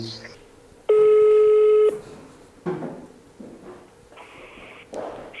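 A telephone call being placed: a loud steady dial tone lasts about a second, then a fainter ringback tone repeats, with people talking between and under the tones.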